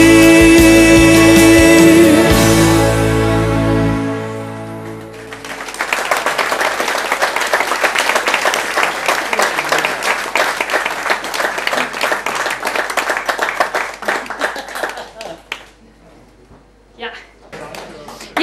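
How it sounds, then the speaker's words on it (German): Audience applause bursting out after a live song at an August event, the music's final chord fading into loud sustained clapping that gradually thins and tapers off. "das ist dein Applaus"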